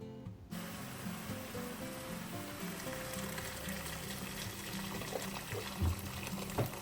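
Water is poured into a pan of frying meat with garlic and bay leaves, giving a steady, faint sizzling splash and trickle that runs throughout with no talking.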